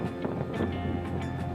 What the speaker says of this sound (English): this wind just picked up